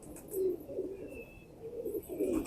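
A banded pigeon coos in short, soft repeated phrases at close range, a low throaty burble with brief pauses between calls and no talking.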